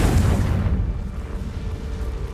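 A deep, loud blast from the Confringo spell in Hogwarts Legacy hits at once, then fades into a rumbling roar with no voices.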